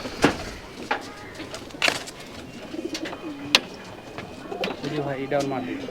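Soft, low coos from old Rajshahi Giribaz pigeons roll in a few times, with brief wing flaps and a sharp clap, plus a person talking faintly nearby.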